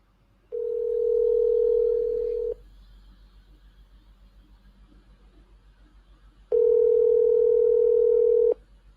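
A telephone dial tone plays while a call is being placed: two long steady tones a few seconds apart with quiet faint ringing between them, and no voices.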